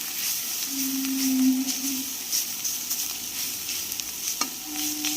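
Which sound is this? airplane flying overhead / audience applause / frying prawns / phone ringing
frying prawns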